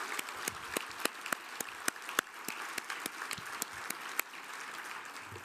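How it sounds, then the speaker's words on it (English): Audience at a literary gala applauding board members: sharp scattered individual claps rising out of a soft room wash, moderately distant and continuous throughout. "Please give them a round of applause."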